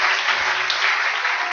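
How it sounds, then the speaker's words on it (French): Applause from a church congregation, a steady dense wash of many hands clapping together, fairly loud and continuous, with no voices standing out. "Applaudissons pour le Seigneur."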